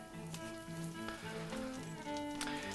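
Fish fingers fry in a pan with a steady, close bubbling sizzle that holds an even level throughout, with no voices over it.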